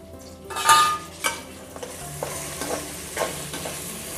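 Beans, carrot, green chili and peas stir-fried in a pan for moong dal khichdi, with a burst of sizzling as they drop in, then soft spoon scrapes and lighter crackling, close and alone.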